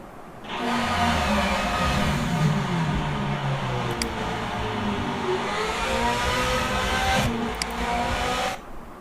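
AI-generated racing car engine, a loud revving roar that starts abruptly, holds with rising and falling pitch for several seconds and cuts off sharply, with no voices.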